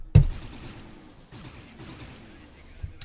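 A machine gun in the shooter game Hard Reset Redux opens with a sharp loud blast, then rattles off rapid bursts of fire that trail into lingering echoing reverberation, with one more thump near the end.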